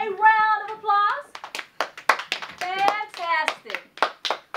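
Children clap their hands in short bursts between their own chattering and sing-song voices, producing sharp, close claps scattered through the speech.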